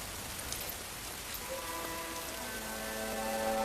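Steady rain falls as a dense, even hiss, with sustained musical tones rising in over the second half.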